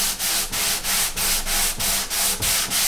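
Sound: sanding acoustic guitar wood sides with sandpaper

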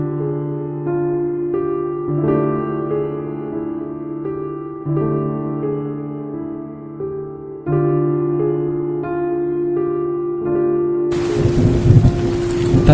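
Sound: storm wind and heavy rain

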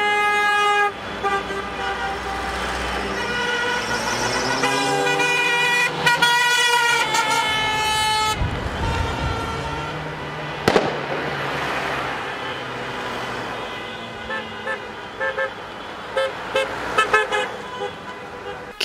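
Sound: car horns of a flag-decorated vehicle convoy parade

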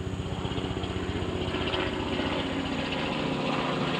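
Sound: helicopter flying overhead

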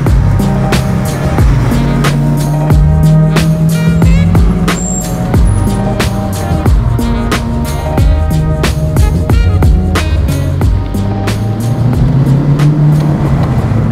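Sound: replica AC Cobra car cruising

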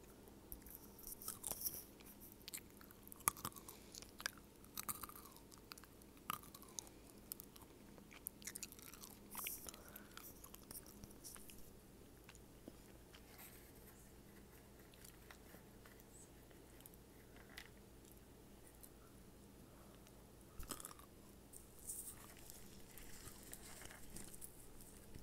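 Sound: chewing nuts

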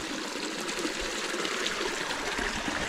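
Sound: river stream flowing

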